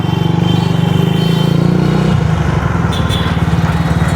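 A modified Honda CG125 motorcycle on a test ride runs close and loud, its engine thrumming steadily with a rhythmic exhaust beat that shifts slightly in pitch midway.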